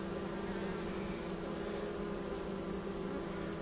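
Honeybees buzzing and fanning at the entrance of their hive, a dense, steady, droning hum of many wings, close and continuous with no talking.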